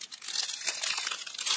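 Plastic packets of diamond painting drills crinkle and rustle continuously at close range, with bright crackly texture and no talk.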